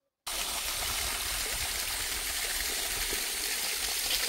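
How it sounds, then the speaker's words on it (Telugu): A thin trickle of water runs at Munjuluru waterfall during a low-flow spell, making a steady, soft, continuous outdoor wash after a brief silent start. "కనిపిస్తుంది కదా, జస్ట్ కొంచెం వాటర్ మాత్రమే వస్తుంది."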